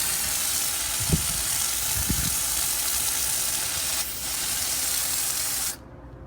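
Leftover pressurized coating material sprays from the line of an AST Kodiak M2 sprayer fitted with a 1/4 inch tip: a loud, continuous close hiss with two low thumps early on that cuts off abruptly near the end.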